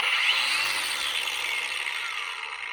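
A Ryobi cordless battery-powered angle grinder spins freely with a bright, steady high-pitched whine that holds close and loud, easing very slightly in pitch toward the end.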